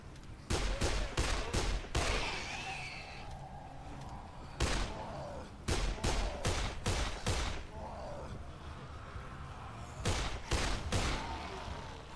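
Gunfire from shooting zombies in the video game Dead Island: bursts of sharp rapid shots in clusters of three to five, separated by pauses with game ambience and faint zombie groans, loud and close.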